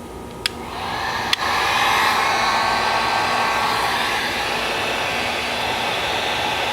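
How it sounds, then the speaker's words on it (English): A heat gun blows hot air for soldering, a loud, steady rushing whoosh that starts with a couple of sharp clicks and then holds a constant blast throughout. "then let's just use the heat gun."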